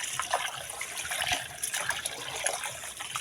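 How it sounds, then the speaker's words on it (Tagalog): Water runs steadily into a kitchen sink while rice is washed, a continuous close splashing trickle with small gurgles and no talk. "Yung lababo kong dito ako magsaing ganito."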